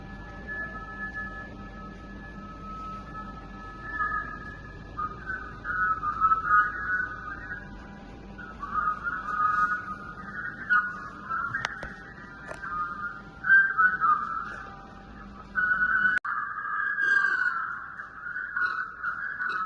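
A narrow, thin band of tonal sound with wavering whistle-like pitches, its low and high ends cut away, giving a hollow, boxy filtered quality.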